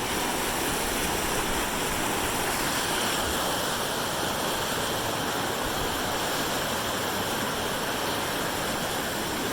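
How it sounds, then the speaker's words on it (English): Heavy water rushes steadily through a historic logging dam at Round Lake, a loud, continuous roar of flow with no letup and no voices. "There is some serious water flowing through there right now."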